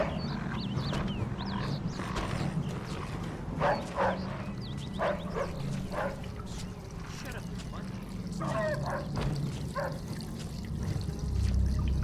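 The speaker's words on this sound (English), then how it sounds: "that dog could be a problem" In the video game Mafia 2, a dog gives repeated barks at mid distance over a steady background of running, trickling water, and faint speech-like sound drifts in at times.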